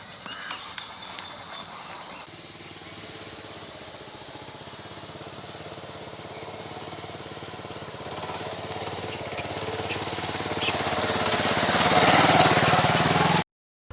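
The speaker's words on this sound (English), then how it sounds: "let's see how Avenger performs this climb here" A Bajaj Avenger motorcycle engine labours steadily while climbing an off-road slope, a continuous mid-pitched drone that grows gradually louder toward the end before cutting off abruptly, with no talking.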